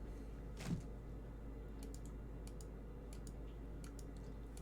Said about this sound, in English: Just a keyboard smash.